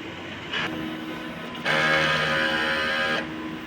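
A mechanical whirring and buzzing from a sublimation printer running a head cleaning cycle, starting with a short burst, then a louder steady run for about a second and a half before stopping.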